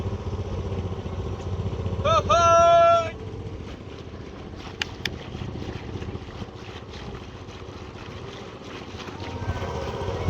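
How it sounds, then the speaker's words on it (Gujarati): Motorboat engine drones steadily during a boat race on Dharoi Dam, a continuous low hum mixed with wind buffeting, with a brief high whistle-like tone and a few sharp clicks over it. "તમે જોઈ શકો છો આપણી હોડી પહેલી લાગી ગઈ છે"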